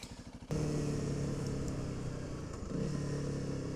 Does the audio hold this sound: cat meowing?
no